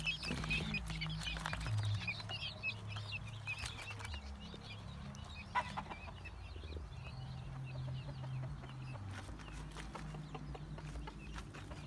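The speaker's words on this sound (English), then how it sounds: "These are barred rock hens." Barred Rock hens clucking together outdoors, a continuous busy chatter of soft clucks with some wing flapping, moderately close, no talk over it.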